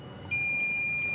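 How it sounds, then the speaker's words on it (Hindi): A multimeter on continuity test beeps as its probes touch transformer wires: three short, sharp high beeps in a steady rhythm over a constant electronic tone, close and clear, with no talking. "यहाँ पे देखिए इस पे आपको बीप का साउंड सुनाई दे रहा है"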